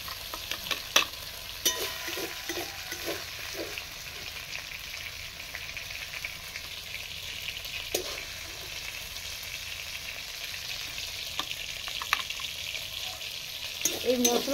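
Pomfret fish pan frying in hot oil gives a steady, close sizzle and crackle throughout, with occasional clinks of a utensil against the pan.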